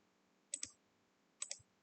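A computer mouse clicks sharply in quick press-and-release pairs, twice and then once more, against near silence.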